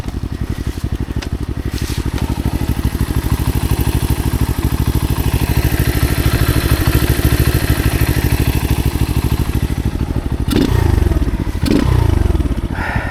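A motorcycle idles low and steady with an uneven, slightly stalling note and a faint mechanical clatter, then gives a couple of brief throttle blips near the end. The engine sits close and loud, with no talk over it.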